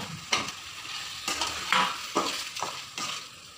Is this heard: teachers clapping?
no